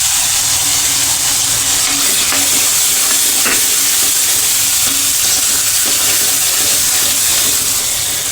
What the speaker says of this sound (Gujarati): હવે આપણે તેને હલાવીને મિક્સ કરી લઈશું